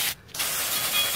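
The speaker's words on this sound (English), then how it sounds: "We want to squirt some water in there." Garden hose spraying water into a diesel particulate filter from a Mercedes OM642 diesel engine, a steady broadband hiss that holds nearly continuous apart from one brief break near the start.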